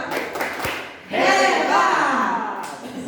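Classroom of children doing the 'tepuk hebat' clap, a short patterned round of clapping that swells into loud group shouting, with voices heard throughout.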